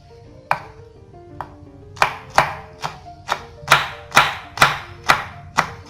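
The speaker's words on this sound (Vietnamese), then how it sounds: "mình băm hành tím và tỏi nha các bạn" Knife chopping two garlic cloves and a shallot on a cutting board, a series of sharp, close, rhythmic chops that start sparse and pick up to a steady beat.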